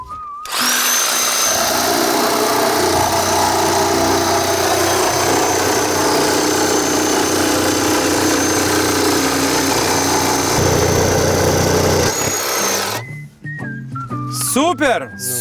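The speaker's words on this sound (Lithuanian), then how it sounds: "norėčiau pamatyti, kaip elektrinis pjauna" An electric saw cutting an asbestos roof sheet whines loudly and steadily for about twelve seconds, then cuts out, leaving brief voices and light clatter.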